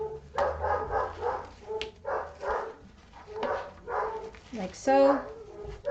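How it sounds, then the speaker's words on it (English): Puppies yip, whimper and bark in short repeated bursts close by, mixed with a person speaking briefly at a class. "Oh my gosh, puppies."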